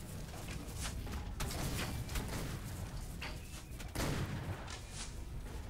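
Gunfire from the video game ARK, a run of several sharp shots in quick succession over a dense, noisy in-game soundscape, fairly loud and with no talk over it.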